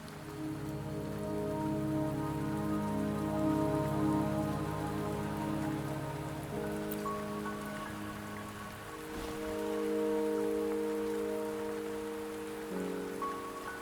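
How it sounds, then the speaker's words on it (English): Steady rainfall in the video game Wuthering Waves, an even wash of falling rain on surfaces throughout, with soft sustained musical tones layered underneath and no talking. "Don't worry, the rain won't last much longer."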